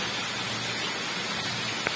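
Steady rainfall, a dense continuous hiss of drops hitting surfaces outdoors, even and unbroken throughout with no voices over it.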